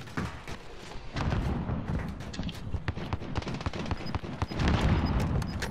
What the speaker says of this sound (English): I'm getting sniped from somewhere else, Aaron.